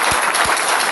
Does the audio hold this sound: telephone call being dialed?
no